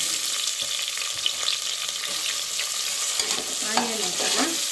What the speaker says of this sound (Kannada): ಇದು ಫ್ರೈ ಆಗ್ತಾ ಇದ್ದಂಗೆ ಆನಿಯನ್ ಹಾಕೋಣ.